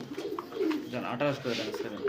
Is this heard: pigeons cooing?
yes